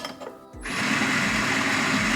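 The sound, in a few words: La Marzocco Swan coffee grinder grinding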